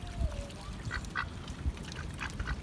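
A goose honks among a small group of ducks, with several short, faint calls scattered over a noisy low background.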